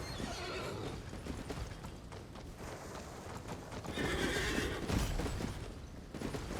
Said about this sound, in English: Why is your horse the loudest thing I've ever heard?